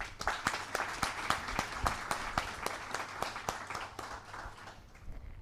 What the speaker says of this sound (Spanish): Un aplauso para Román también.